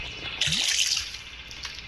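Water rushing into a container in the video game Granny Chapter 3, a short bright gush that starts abruptly and tapers off within about a second and a half, with no talk.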